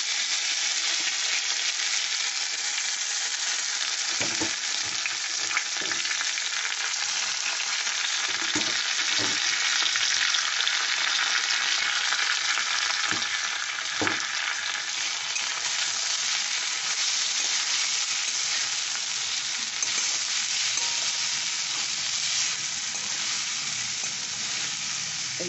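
Flattened rice (poha) with cashews and raisins frying in a pan: a steady, loud sizzle runs the whole way, broken by occasional soft scrapes and knocks of stirring, with no talking.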